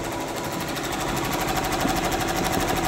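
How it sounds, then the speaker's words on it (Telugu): A computer embroidery machine stitches a zari line design, running with a fast, steady mechanical chatter and a rapid repetitive needle beat, loud and close with no pauses. "కాబట్టి ఇప్పుడు మనం మిషన్ అయితే ఆన్ చేసుకుందాం."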